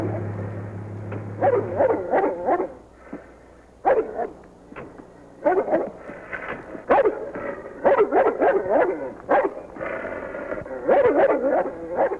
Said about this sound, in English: He brought a dog.